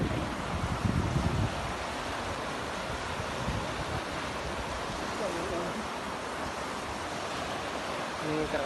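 A very strong flood current rushes in a steady, dense roar of churning water, with wind buffeting the microphone throughout.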